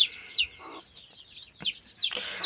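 A young chick peeps in high, thin chirps, repeated in short bursts close by, with a few soft clucks and rustles between them.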